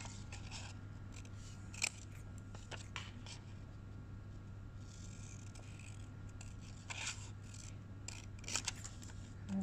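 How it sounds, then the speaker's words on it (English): Scissors snip straight through lined-up samples in a few short, quiet cutting strokes over a steady low electrical hum. "So you can cut straight through the samples."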